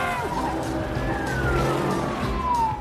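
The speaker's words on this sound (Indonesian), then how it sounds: "saat Teddy menuju stasiun ia malah dikepung oleh polisi" Police cars close in around a car, with engine rumble and a wavering siren tone sweeping down, under someone narrating.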